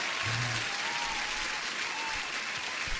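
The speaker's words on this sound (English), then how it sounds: "let me give you an applause again" A canned applause sound effect plays during a live futures day-trading stream, a steady, moderately quiet wash of clapping with a brief tone near the start.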